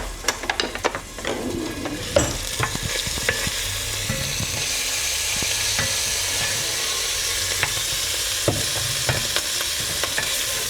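Food sizzling and popping violently in a hot pan as it goes in, a steady loud fry hiss with frequent crackles and spitting bursts, no talking.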